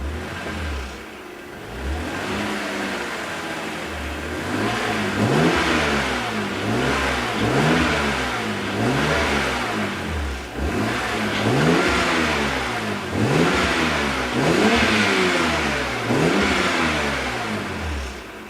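An inline six-cylinder car engine running rough is revved over and over, each rise and fall of pitch following closely on the last in a steady rhythm, loud and close with no talking.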